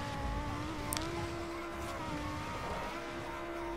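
A Mini Cooper drives in the racing game Forza Horizon 2, its engine holding a steady sustained drone with brief rises, loud and continuous with faint tire noise layered beneath.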